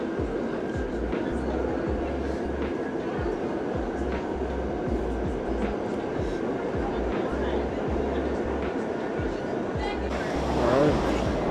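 New York subway train riding along, a steady loud rumble with rhythmic low thumps of the wheels, and voices talking over it and a brief swell near the end.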